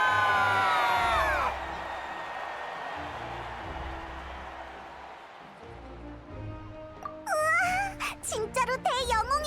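A crowd in the video game Genshin Impact applauds and cheers for a hero. The broad, sustained crowd noise follows a speaking voice, and voices call out again near the end.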